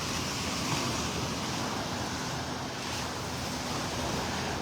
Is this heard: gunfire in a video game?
no